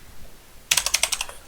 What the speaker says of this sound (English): Now type in